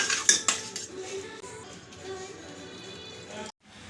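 Metal spoon stirring cucumber dal in a pot, clattering and clinking sharply against the sides at first, then scraping more softly before stopping abruptly, close and alone.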